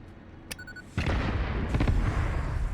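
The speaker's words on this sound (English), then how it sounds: "Give me a cluster bomb" Cluster bomb blasts in the video game Satisfactory: a short electronic tone, then a sudden heavy boom followed by a rumbling cascade of overlapping explosions, loud and close.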